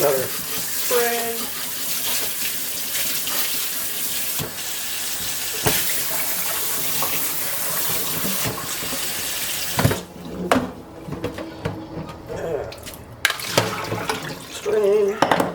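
Hot water sprays from a tap over pork pig tails in a kitchen sink, a steady rushing splash that breaks off around ten seconds into short bursts and gurgles, with the cook's voice briefly in the background.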